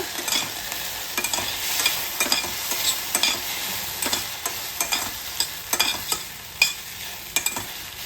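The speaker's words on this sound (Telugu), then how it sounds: "టమాటాలు వేసిన తర్వాత మూత పెట్టి ఒక 5 నిమిషాలు మగ్గించుకోవాలి." Tomatoes cooking in a pan for a chilli tomato onion chutney, a close steady sizzle broken by repeated scraping stirs of a spoon, fairly loud and without any talk.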